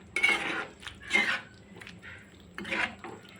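A spoon clinks and scrapes against a metal pot while fish curry is gently mixed, giving a few separate bright clatters with quiet pauses between them.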